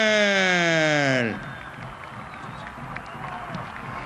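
Stadium crowd applauding a substituted football player during a floodlight inauguration match at the Rafael Mendoza Castellón stadium, a loud spoken announcement giving way to steady, distant applause and crowd noise that carries on to the end.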